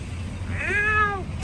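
A single drawn-out cat meow, clear and fairly close, rising then falling over about half a second against a low, steady background hum with no talking.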